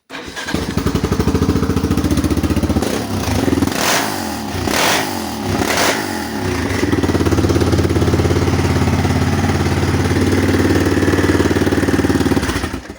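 Yamaha Raptor 660 quad bike engine running after an electrical fault repair, with a loud, close, steady rough idle that dips briefly and then rises into a stronger, sustained revving drone.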